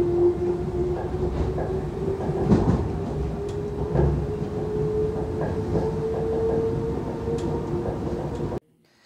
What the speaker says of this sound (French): première expérience dans le RER ce matin